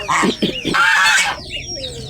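Tiny duckling, the smallest hatchling of a duck's brood of four, gives a run of high, thin chirps close by, with brief rustling and faint fowl sounds mixed in.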